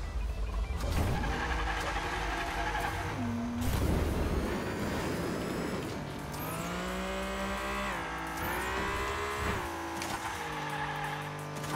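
Hot Wheels toy-style race cars in a video game, engines whining and revving with rising and falling pitch as they accelerate and pass close by, loud against steady game sound, no talk.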